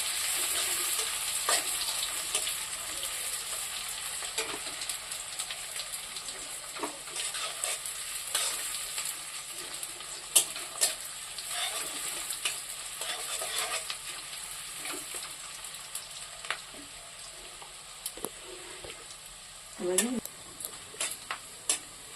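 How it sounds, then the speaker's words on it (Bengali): Onions sizzle in oil as they fry toward a reddish colour, a steady hiss broken by repeated scraping stirs and light clinks of a spoon against the pan. "পেঁয়াজটাকে লাল লাল করে ভেজে নিয়েছি"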